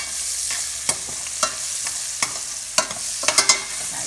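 Onions cooking in a pan with a steady hiss, and sharp scrapes and clinks from stirring land at irregular moments over it. No voices are heard.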